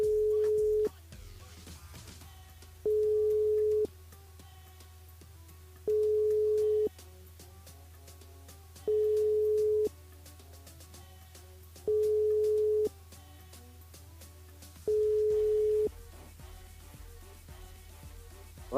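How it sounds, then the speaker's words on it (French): A French radio station's switchboard calls a listener over the phone line, giving a telephone ringing tone of six even, steady tone bursts about three seconds apart over a low hum, with faint background studio noise and no talk. "on appelle Raphaël sur le standard sur le jeu Séjour par SMS au 80-90"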